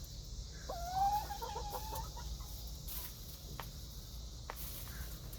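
Backyard chickens cluck softly and intermittently in an outdoor coop, with light scratching and a few faint taps over steady background noise.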